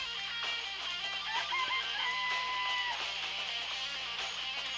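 Chickens clucking inside a chicken coop in the video game Danganronpa: Trigger Happy Havoc, steady overlapping calls with a drawn-out crow-like note over a constant background hum, no talking.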